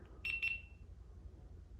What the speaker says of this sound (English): So you hear a beep